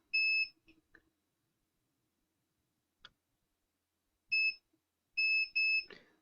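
Multimeter continuity tester checking pins on an XL6009 boost converter board: a few short, clean electronic beeps, a single one then a quick run of pulses, separated by silence and faint clicks of the probe leads.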